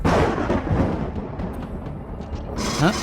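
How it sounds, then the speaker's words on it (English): Gun turrets firing in the space survival game Empyrion Galactic Survival: a dense, rumbling barrage of heavy blasts that runs continuously and loudly, easing slightly before a brighter burst near the end, with no talking. "Oh, there's some gun turrets up."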